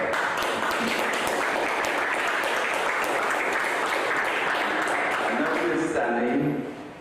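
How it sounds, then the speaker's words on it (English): Audience at a gender-based violence event breaks into dense, sustained applause that stays loud and even before tapering off at the end, with voices mixed in. "So I want to give a round of applause for her."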